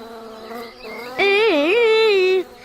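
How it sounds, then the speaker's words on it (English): A cartoon bee buzzes loudly close by for about a second, its wavering drone rising and dipping in pitch before cutting off, following a quieter tonal hum. "Hey, Buzz, stop buzzing in my ears."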